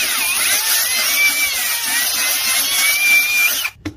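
Drill spinning a 320 grit ball hone inside the Nikasil-plated cylinder of a 2007 Honda CRF250R, a loud, steady high-pitched whine held for several seconds before it cuts off abruptly near the end.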